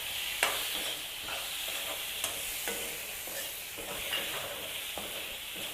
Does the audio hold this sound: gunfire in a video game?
no